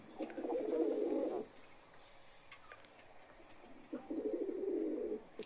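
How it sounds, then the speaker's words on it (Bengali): Fancy pigeons in a home pigeon loft give two bursts of low, throaty cooing, each lasting over a second and separated by a quiet pause, with faint ticking in the background. "এটা একটা শৌখিন পায়রা"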